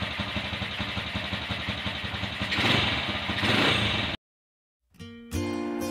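A Honda TMX 125/155 pushrod motorcycle engine idles after a tune-up with a close, steady mechanical clatter. It cuts out abruptly to silence, then restarts briefly.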